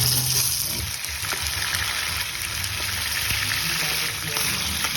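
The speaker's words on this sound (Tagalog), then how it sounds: "mainit na yung mantika. Ilagay na natin yung mga manok." Chicken pieces sizzle and crackle in hot oil, a continuous frying hiss with scattered pops, close and fairly loud.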